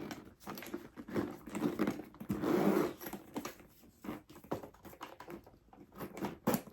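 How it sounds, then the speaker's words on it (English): A small Gucci Ophidia GG top handle bag is zipped shut in a run of short, close, ratchety zipper pulls with brief pauses, loud and clear with no talk. "It is a little tough to zip around the corners"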